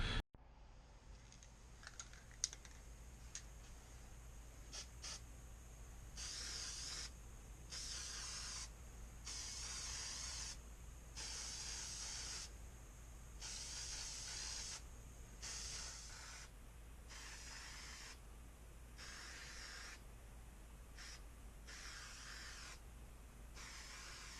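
Gold paint is sprayed from a spray gun or can onto guitar finish test pieces in short hissing bursts of varying length, repeated on and off, quiet and close, with no talking.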